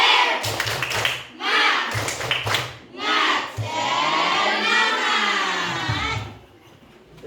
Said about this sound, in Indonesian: Mulai ice breakingnya dengan tepuk semangat.